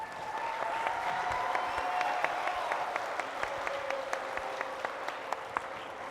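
An audience at a high school outreach event applauds a guest, the Attorney General of Guam, with steady sustained clapping and a few sharper individual claps standing out, while a faint tonal hum runs beneath.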